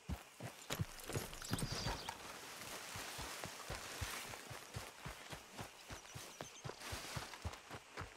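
Horse hooves gallop in Red Dead Redemption, rapid rhythmic thuds keeping a fast even beat, fairly quiet but distinct, with no speech.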